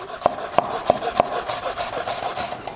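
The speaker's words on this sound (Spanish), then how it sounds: "Voy a cortar todo, tanto el calabacín, la patata, la cebolleta, todo lo voy a cortar en tiritas." A kitchen knife cuts zucchini, potato and spring onion into thin julienne strips on a board, with about four crisp evenly spaced chops followed by softer slicing strokes, close and clear.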